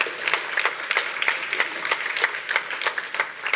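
A church congregation claps together in a steady, even rhythm, crisp repeated claps at a moderate distance with no talking over them.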